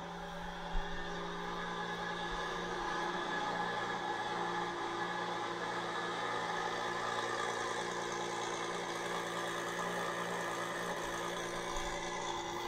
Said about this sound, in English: we've got a little startup and test drive